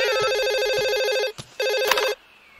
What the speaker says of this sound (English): I can hear the phone.